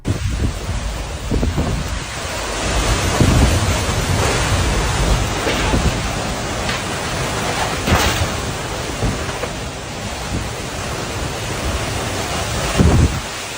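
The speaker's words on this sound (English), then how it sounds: "a super intense tornado went past this guy's house in Illinois" An intense tornado roars past a house in Illinois, a dense, unbroken rush of wind noise with rumbling gusts and buffeting against the microphone, loud and continuous throughout.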